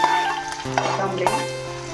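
Mustard seeds, cumin, chopped onion, curry leaves and coriander sizzle steadily in hot oil in a pan, with a loud continuous frying crackle and a few stirring scrapes.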